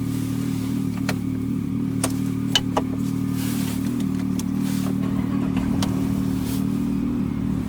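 A freshly rebuilt 6.4L HEMI truck engine idles steadily in a shop on a cold morning, with a continuous low rumble, light mechanical clatter and a few sharp ticks.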